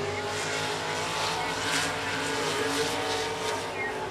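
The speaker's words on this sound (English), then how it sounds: "You watch those cars continuing to use that little bit of the outside lane there to keep up those RPMs" Race cars lap 105 Speedway, their engines roaring loud and continuous and holding high RPM as they pass in the outside lane.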